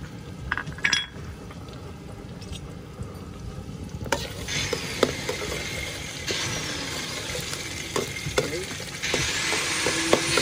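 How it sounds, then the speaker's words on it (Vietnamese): Beef stir-fried with bitter melon sizzles steadily in a hot pan, with frequent scraping and stirring strokes and occasional clinks of the utensil against the pan, heard up close with no talking. "xào thịt bò."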